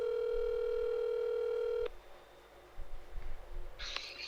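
A steady telephone dial tone hums for about two seconds as a call is placed, then cuts off, followed by faint line noise and a brief burst of higher tones.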